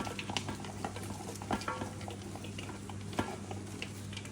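Large-cut onions are added to a pot of garlic paste over a wood-fired stove and stirred, producing a steady close sizzle and hiss with scraping knocks from the stirring.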